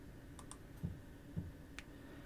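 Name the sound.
computer mouse click on OK button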